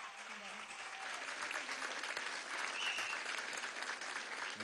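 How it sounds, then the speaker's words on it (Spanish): An audience at a large political anniversary ceremony applauds a group of women singers, a dense burst of many hands clapping steadily with faint voices mixed in underneath. "Un aplauso, muchachas."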